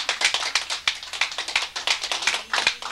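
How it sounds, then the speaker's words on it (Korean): A lecture-hall audience claps at a Korean Buddhist sutra talk, a steady run of many dry, close hand claps with no talk over them. "박수쳐라."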